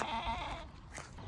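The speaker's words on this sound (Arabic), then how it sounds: "هذا بس خروف واحد" A single sheep bleats with a short wavering cry at close range, followed by a faint rustle and quieter background.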